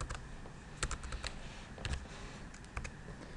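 Typing on a computer keyboard while entering names into a spreadsheet produces quiet, close key clicks in small irregular bursts, with a few louder taps standing out from faint background hiss.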